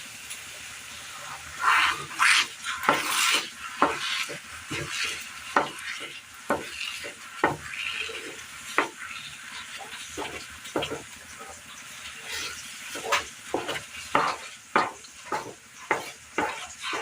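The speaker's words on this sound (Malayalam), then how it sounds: "നന്നായി ഇതുപോലെ ഇളക്കി കൊടുത്തുകൊണ്ടിരിക്കണം." A mixture is stirred in a pan while cooking, with repeated scraping and knocking of the spoon against the pan over a soft sizzle, the strokes coming in irregular bursts close by.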